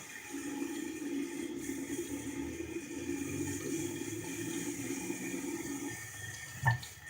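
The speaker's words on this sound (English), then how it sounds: "And then I'm gonna rinse that all off." Water running from a tap into a sink while someone rinses their face, a steady broadband splash lasting several seconds, then the flow stops with a brief louder splash near the end; no talking.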